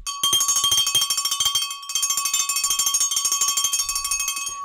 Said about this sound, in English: Ring that PR bell.